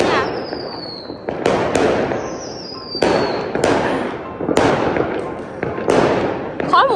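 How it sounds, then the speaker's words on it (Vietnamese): Firecrackers set off on New Year's Eve in rural China crackle in loud, dense bursts with sharp repeated bangs, going on throughout and nearby, with a voice speaking under them. "nhà nào cũng đốt pháo á"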